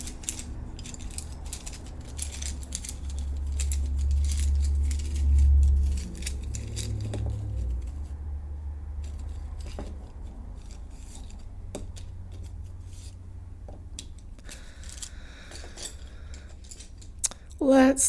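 Rune stones shuffled by hand during a tarot and rune reading, giving scattered small clicks and clacks of stones knocking together over a soft low hum, with a louder burst of clattering at the end.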